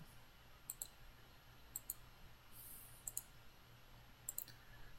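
Mouse clicks inside a floor-drawing tool, sounding as crisp paired clicks that come in four quick bursts, close and faint over a low steady room hum.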